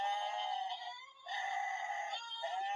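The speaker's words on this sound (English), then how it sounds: "If you don't have enough goat sounds in your life, This will give you plenty." An Archie McPhee emergency goat toy bleats in loud, nasal, wavering cries, one long bleat, a brief pause, then another long bleat and a shorter one, alone without talk.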